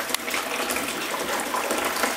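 Tap water gushing into a container while painting woodwork, a steady hissing pour at moderate level with a small knock near the start and no speech.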